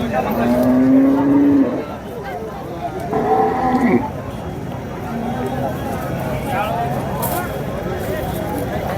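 Bulls at a large village cattle market in Gevrai low with long, loud moos, one after another in the first half, followed by steady crowd and market noise.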